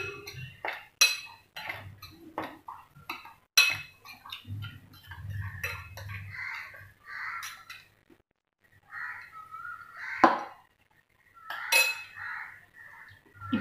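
A whisk scrapes and clinks against a bowl while mixing a cauliflower chilli batter, sharp irregular metallic taps and rattles in close, quiet bursts separated by pauses.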